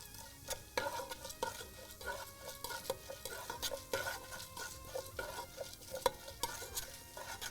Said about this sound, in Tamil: உளுந்து, கடலைப்பருப்பு, இந்த இளம் நிறமாக வறுபடணும்